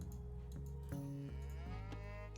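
Cattle mooing in the Age of Mythology Retold strategy game, a sustained low harmonic moo with pitch shifts, heard alone over a steady game background without talk.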